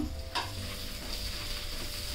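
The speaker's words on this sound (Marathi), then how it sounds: "तेलामध्ये परतून घेते" Soft, steady sizzling of onion frying in oil, with a light scrape of stirring near the start; fairly quiet and continuous.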